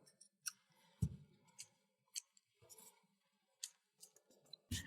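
Scissors snip green fabric for beeswax snack bags, a few sparse close cuts and clicks at irregular intervals, quiet and alone in a still room.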